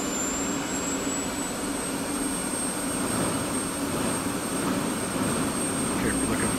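A jet engine spools up during the start sequence in the DCS World flight simulator, a steady broadband roar topped by a thin high whine that holds level and close throughout.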